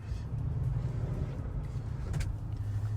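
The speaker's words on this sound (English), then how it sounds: "Let's go ahead and take this turn a little bit higher speed here." 2024 Chevy Tahoe High Country SUV taking a turn at speed, heard from inside the cabin: a steady low engine and road rumble with muffled tire noise, with no clear change through the turn.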